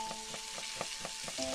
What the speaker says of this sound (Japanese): あ、包丁でなんか切ってる。